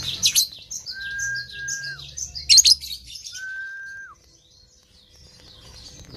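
White-rumped shama (murai batu) songbirds from Aceh chirping in a breeding setting, with bursts of high, busy tweets and two long steady whistled notes, fairly close, then fading to quiet.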